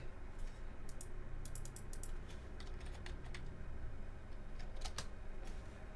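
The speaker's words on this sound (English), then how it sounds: "Oh, I keep typing on Figma." Rapid, uneven bursts of keystrokes on a computer keyboard, clicking in quick clusters over a steady room hum with no one talking.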